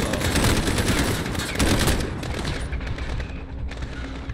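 A SCAR rifle firing in the Call of Duty Modern Warfare video game: loud, dense bursts of gunfire for about two seconds, then thinning into scattered shots and fading echoes.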